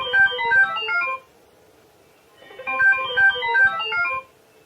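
A phone ringtone plays an electronic melodic tune in two bursts about a second long, separated by a pause of silence, close and clear.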